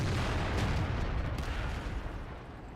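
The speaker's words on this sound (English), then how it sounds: "Another good hit by the enemy artillery" An enemy artillery shell lands in a World of Tanks battle, a muffled, low rumbling boom that fades over a few seconds at moderate distance.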